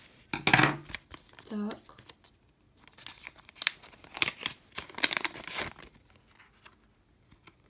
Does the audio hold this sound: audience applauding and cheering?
no